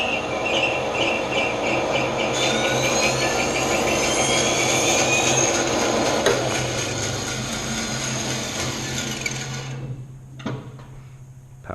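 A bandsaw runs steadily, its blade cutting relief cuts into a workpiece with a loud continuous whine and rumble, then the motor is shut off and spins down near the end.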